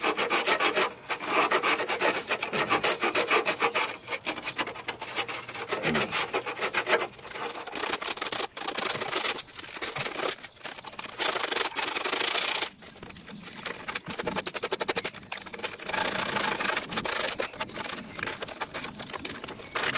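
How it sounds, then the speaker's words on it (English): Coarse 120-grit sandpaper rubbing over corroded car brake lines, a continuous close rasping scrub with brief pauses between strokes and no talking. "I'm going to start sanding here with 120 grit."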